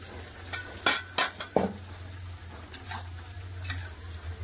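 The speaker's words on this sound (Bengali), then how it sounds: "বন্ধুরা দিকে তো আলু ভাজা হচ্ছে" Potatoes frying in oil in a kadai, a low steady sizzle broken by a few sharp clinks and stirring scrapes of a utensil against the pan, close and with no talking.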